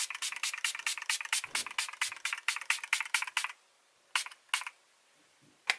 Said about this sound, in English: Now I take that hangover spray again, and we're going to spray the face.